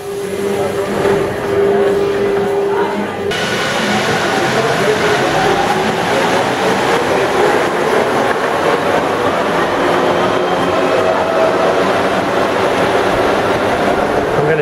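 A loud Mexico City Metro train rumbles steadily underground with a continuous roar and a brief high whine early on, close and enveloping.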